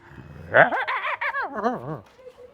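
A man, a tea seller from Chandpur, imitates a dog with his voice: a close, loud run of yelping, whining bark-like calls with rising and falling pitch, lasting about a second and a half.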